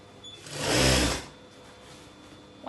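A sewing machine stitches fabric for an A-line pinafore dress in one close, steady buzzing run of about a second before stopping.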